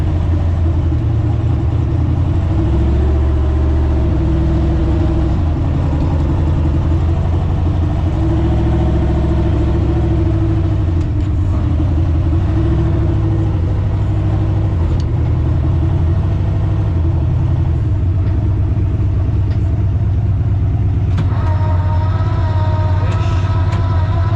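Turbocharged Ford Zephyr four-door car, engine running steadily at a low rumbling idle, close and loud throughout, with slight rises in revs and faint mechanical noises near the end.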